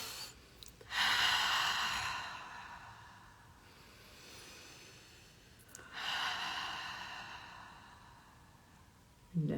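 Two long, deep breaths drawn in and slowly released during a guided group meditation before chanting Om, each breath a broad airy rush, fairly close and alone with quiet between them.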